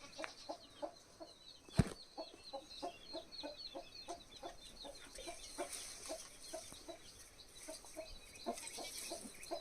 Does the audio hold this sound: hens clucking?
yes